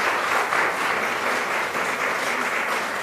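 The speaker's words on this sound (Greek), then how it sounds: "Τώρα ακούτε κάποια παλαμάκια" Audience applause at a talk on art and psychology in a mosaic exhibition space, steady close clapping from many hands that holds at an even level for a few seconds.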